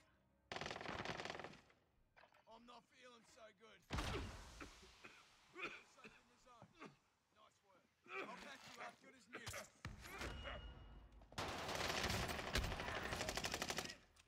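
Submachine gun fire in a video game duos match rattles out in loud rapid bursts near the start and again at the end, with shorter volleys between and players' voices talking over the action.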